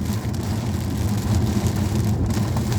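Steady heavy rain pours during a violent thunderstorm in Normandy, a dense continuous wash of drops close by with no distinct thunder claps and no voices.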